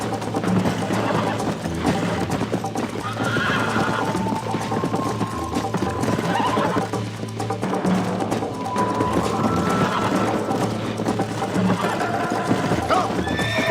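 Horses whinny repeatedly over a constant clatter of hooves and a low background hum, all dense and loud, in the video game Red Dead Redemption.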